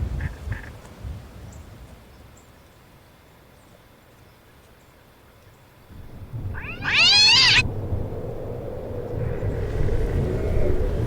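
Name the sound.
cat meowing in video game Echoes of the Fey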